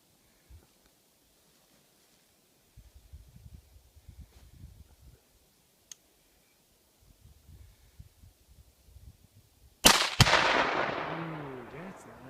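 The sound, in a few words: rifle shot detonating a 2-pound Tannerite jar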